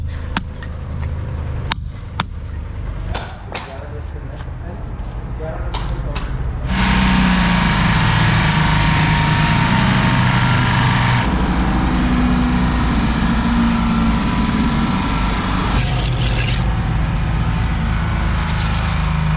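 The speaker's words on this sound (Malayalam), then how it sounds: "വൈബ്രേറ്റർ ഉപയോഗിച്ചിട്ട് ഇതുപോലെ പല തവണ ഇതിൻ്റെ മുകളിലൂടെ ഓടിക്കും" A plate vibrator compacting freshly laid paving blocks roars into a loud, steady engine drone partway through, after quieter scraping and knocks, and keeps running close by.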